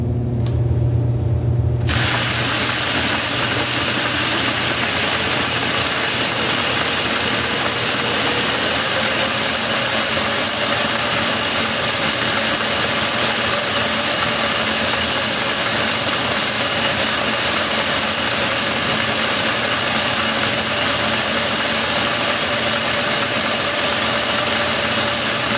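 A custom electric bike built from an old 1970s women's Schwinn does a burnout. After a short start, a loud steady whirring hum of the spinning rear tire runs continuously and close, with no talking.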